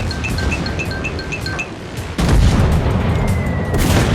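In the video game World of Warships, a loud booming blast of a warship exploding erupts midway, following a stretch of rhythmic chiming beeps, then a dense rumbling roar lingers to the end.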